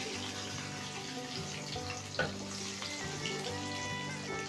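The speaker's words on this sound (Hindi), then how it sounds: "यहाँ पर गुड़ को पिघलाने के लिए मैं आधा गिलास पानी ऐड कर रही हूँ," Half a glass of water poured onto jaggery in a cooking pot to melt it for sweet jaggery rice, a steady watery gush with faint sizzling, close and fairly quiet, with no talking.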